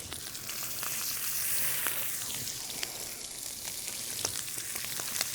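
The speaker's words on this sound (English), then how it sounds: "And I want that sizzle." Steady crackling sizzle of food frying in a hot pan, continuous and fairly close, with no voices.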